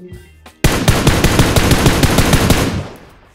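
Loud automatic gunfire in a battle royale match on the Livik map, a sustained rapid burst of evenly spaced shots starting abruptly after a brief quiet moment and cutting off near the end, close and dominant.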